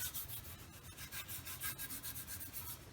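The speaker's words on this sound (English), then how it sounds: "Just give it a little bit of scrubbing and work my way around" A brush scrubs dirt off a vintage 1950s Craftsman drill press, quick rhythmic back-and-forth bristle strokes, close but fairly quiet, with no voices.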